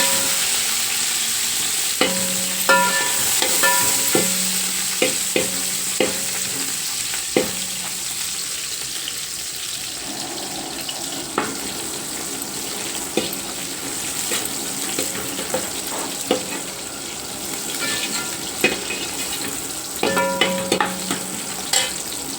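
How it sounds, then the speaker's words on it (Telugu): Mint and coriander leaves frying in a pan for spicy chicken dum biryani, with a continuous loud sizzle and regular scraping and stirring strokes, close up and without speech. "ఇలా బాగా వేగిపోయే వరకు వేయించేసుకుందాం."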